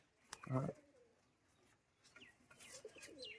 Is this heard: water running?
no